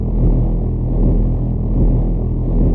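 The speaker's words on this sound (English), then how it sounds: "and a low pulsing drone." A low drone layer for a game spaceship idle hums continuously and loudly, deep and rumbling with slight swells in level, filling the clip without any voices.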